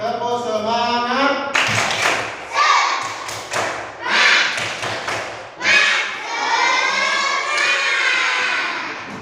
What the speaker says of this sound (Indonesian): mari kita bersama-sama melakukan tepuk semangat ya